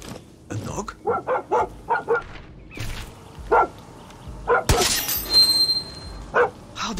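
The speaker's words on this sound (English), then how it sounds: "A dog?" A dog barks in the video game Far Cry 6, a series of short repeated yaps in the first few seconds, followed by creaks and a sharp clattering crash amid ambient game noise.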